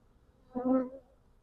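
A single bee buzzes briefly past, a short close hum that rises and fades within a second against quiet surroundings.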